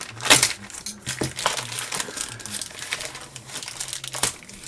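Tough plastic mail packaging crinkles and crackles up close in irregular bursts as it is pulled open by hand.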